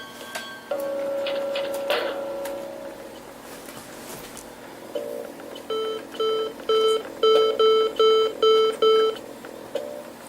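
Tinny, beeping electronic game music from a Doom startup on a Macintosh Performa 640CD with a DOS-compatible PC card, heard as repeated short tonal pulses in a rising, rhythmic pattern after a few scattered clicks and beeps.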